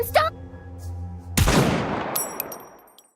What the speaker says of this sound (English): A single gunshot rings out.